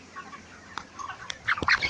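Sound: broiler chickens clucking

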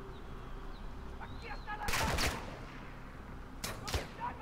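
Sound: gunfire in Call of Duty Modern Warfare 2 video game

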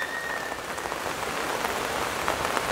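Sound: heavy rain falling in garden

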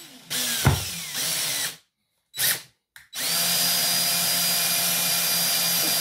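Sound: drilling slate with masonry bit

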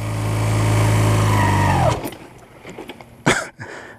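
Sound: motorcycle engine as rider lets off clutch and brake

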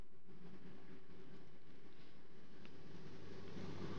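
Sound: train passing by

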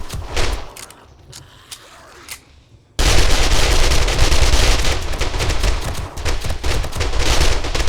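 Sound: gunfire shooting at a boss in a video game

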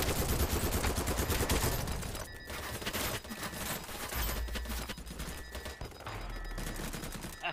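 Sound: gunshots in a video game

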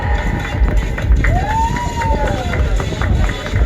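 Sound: audience applause at a fashion show

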